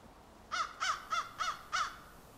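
Five harsh crow caws in an evenly spaced series, clear and fairly near against a quiet outdoor background.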